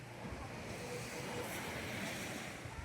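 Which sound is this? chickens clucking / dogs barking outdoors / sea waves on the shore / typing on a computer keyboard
sea waves on the shore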